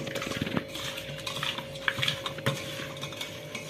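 Pieces of fish are mixed with salt and chili masala in a bowl, giving close, faint clinks and scrapes of utensil on dish with a soft steady hum in the background.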